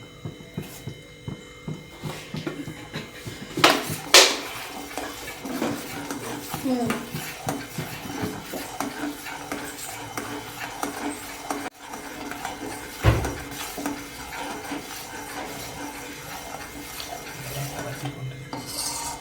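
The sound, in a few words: spoon stirring sugar into tea in a pot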